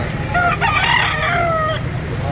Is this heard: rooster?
yes